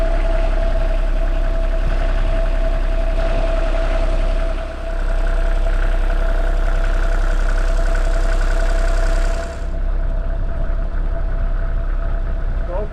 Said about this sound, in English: we heard some new unexplained noise in one of the engine bays